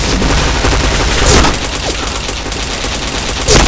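Gunshots in the Point Blank shooter game, rapid and loud continuous firing with a couple of sharper shot impacts.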